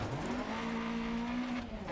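A Lancia Fulvia rally car in Dirt Rally 2.0 on a tight, twisty Argentina stage, its engine note holding a steady drone near and loud, with a brief rise at the end and a hint of tyre scrub.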